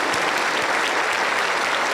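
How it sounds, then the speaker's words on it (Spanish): A church congregation breaks into loud, sustained applause, dense and steady from start to finish with no voices rising above it. "Un fuerte aplauso para el Señor Jesús."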